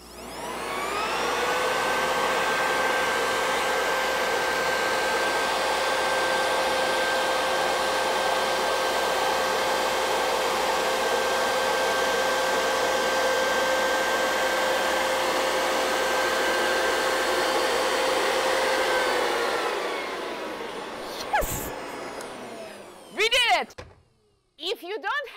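A leaf blower gives a loud, steady rush of blown air with a constant motor whine for about twenty seconds, then shuts off, followed by a few handling clicks.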